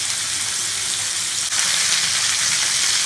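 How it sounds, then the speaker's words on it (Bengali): Chicken pieces deep-fry in hot oil for Afghani chicken, making a loud, dense, continuous sizzle that holds steady throughout, with only a brief dip midway. "আমি ভালো করে একটু চিকেনটাকে ফ্রাই করে নেব।"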